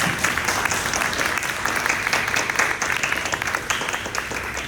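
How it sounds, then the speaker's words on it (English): Steady, dense applause from a large crowd at a kids convention in a museum, loud and continuous throughout without pause. "please give these children a round of applause"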